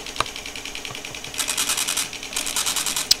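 An Arduino-driven dot matrix printer buzzes through quick rhythmic bursts of rapid clicking, pausing briefly between lines, close and steady.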